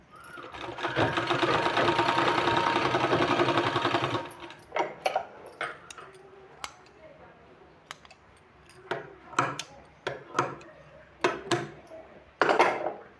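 A sewing machine stitches sleeve fabric, running in a steady, loud burst for about four seconds. It then gives way to scattered clicks and clatter from handling the cloth.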